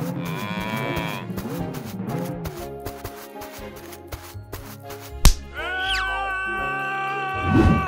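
A cartoon farm cow gives a long, wavering moo, followed by more tonal animal calls and a sharp crack, all over playful background music.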